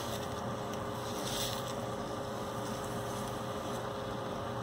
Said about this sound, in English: Sorry for the noise there, but I needed to turn on the vent.